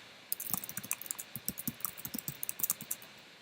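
Quiet, quick clatter of keys being typed on a computer keyboard, a steady run of light clicks heard close up with no talking.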